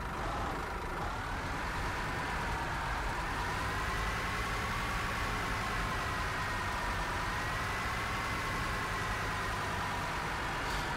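A Scania Touring coach engine idles steadily in the Fernbus Simulator game, a continuous mid-pitched hum with a faint whine layered over it, unbroken and alone for about eleven seconds.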